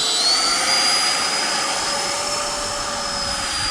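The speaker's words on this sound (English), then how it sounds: "That is how the takeoff should have looked to begin with, nice and gentle." RC model jet with afterburner taking off, a continuous loud turbine roar and high whine that holds steady without pause.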